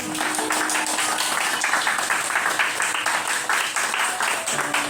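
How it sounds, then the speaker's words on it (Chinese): Class members of a Taiwanese-language singing class clapping for themselves after a group song, a steady, moderately loud patter of many hands filling the whole stretch without voices on top. "好，请给自己掌声鼓励"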